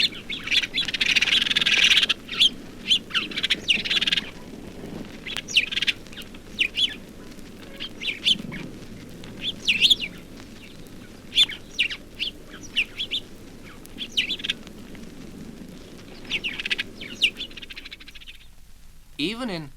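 House sparrows chirp repeatedly around buildings in a back garden, loud, bright calls in irregular bursts over a low steady background, with a spoken voice running beneath them.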